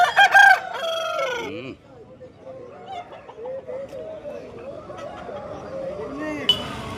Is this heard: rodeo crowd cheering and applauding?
no